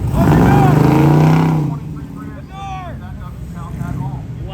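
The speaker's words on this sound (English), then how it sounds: "this Miata just started, dude. She's got a V8" A V8-swapped Mazda Miata at an autocross event, loud engine roar that fades as it pulls away, followed by voices talking over the distant engine sound.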